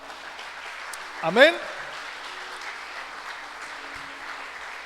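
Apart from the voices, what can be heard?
congregation applause in church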